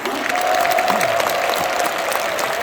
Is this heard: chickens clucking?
no